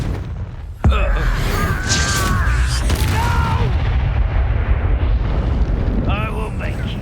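A Confringo fire spell blast in Hogwarts Legacy, a sharp loud boom near the start followed by a sustained roaring rumble, with voices speaking over the noise.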